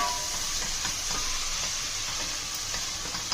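Onions sizzling in a pan with turmeric and salt for a tomato curry, a loud, continuous close frying hiss with light stirring scrapes and no voices.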